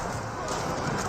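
Horse hooves clatter in an Age of Empires 4 battle as horsemen clash with spearmen, a busy continuous clip-clop mixed into dense battle noise with a voice talking over it.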